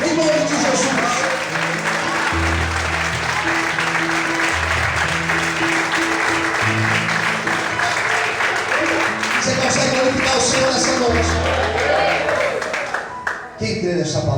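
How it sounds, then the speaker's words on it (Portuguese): Church congregation applauding loudly during a Portuguese-language sermon, a steady dense wash of clapping lasting throughout with music underneath, fading briefly near the end. "aplauda Ele bem forte, em nome de Jesus."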